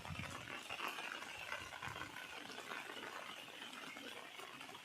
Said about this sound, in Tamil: திருப்பி கனமழை ஸ்டார்ட் ஆகிட்டு